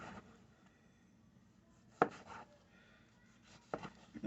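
A knife dices tomato on a cutting board for pineapple salsa, with quiet scraping and a few sharp, close chops, including a distinct one midway and a quick pair near the end.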